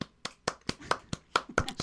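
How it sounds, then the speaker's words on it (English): A steady run of eight sharp finger snaps comes about a quarter second apart, crisp and close with quiet gaps between them and no voice over them. "snap your fingers, snap your fingers"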